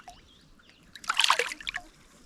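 A released largemouth bass splashes back into the water, a short burst of splashing and trickling that rises to a peak and fades within about a second, heard close and alone.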